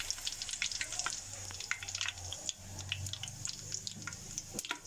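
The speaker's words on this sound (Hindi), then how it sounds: "अब इसमें मैं ज़ीरा, 2-3 लौंग और ये काली मिर्च डाल के इन्हें थोड़ा सा सौते कर लूँगी।" Cumin, cloves and black pepper sautéing in hot oil in a pressure cooker, a steady close sizzle with light stirring scrapes, no talk.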